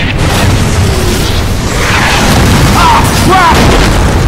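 Bomb blasts in Call of Duty 3 on Xbox 360, a dense rolling roar of booming explosions that fills the whole stretch, loud and continuous, with a man's brief exclamation and other voices breaking through.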